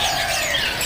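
Pleci white-eye birds for sale at a bird market make a dense, continuous, high twittering chatter, close and busy, with no talking.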